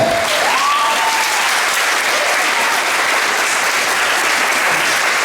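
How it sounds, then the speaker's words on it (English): An audience at a school moving-up ceremony for a graduating class breaks into loud, continuous applause, a dense wash of clapping filling the hall without pause. "You're supposed to clap."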